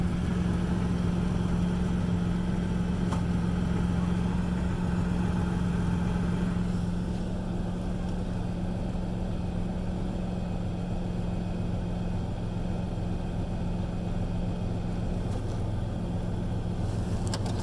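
A 1999 Ford Ranger pickup truck engine idles with a constant low hum and drone, unchanging for the whole stretch, with no speech.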